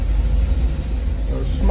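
A car engine, its choke just off, idles at fast idle with a steady low rumble up close, running on without a break.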